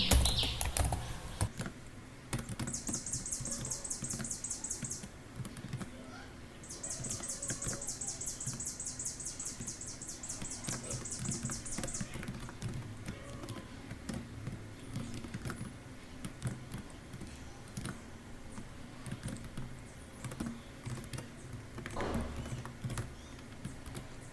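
Keys tapping steadily on a computer keyboard while HTML code is typed into the nano editor, light continuous clicks over a low room hum, with a couple of bright chirping bursts in the first half.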